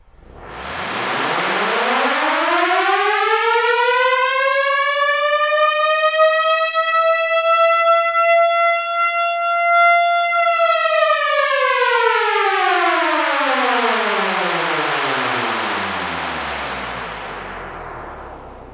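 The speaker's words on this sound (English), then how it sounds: "I also accidentally discovered that you can use this program to generate sirens" A civil-defense style siren generated by engine simulator software, rising smoothly to a sustained steady wail, holding loud and alone, then winding slowly down in pitch until it fades out.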